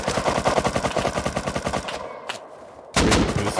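Rapid automatic gunfire during a raid in the video game Rust, a dense loud burst of repeating shots, a brief lull, then another sharp volley.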